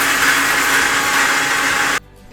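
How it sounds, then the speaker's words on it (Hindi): A Borosil Fortune mixer grinder's motor roars steadily up close for about two seconds, then abruptly shuts off, leaving a faint low rumble. "तो चलिए हम मिलके ग्राइंड कर लेते हैं Borosil Fortune mixer grinder blender juicer."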